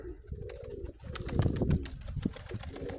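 Pigeons coo in soft, low repeated phrases close by, with some rustling and small chirps around them over a few seconds.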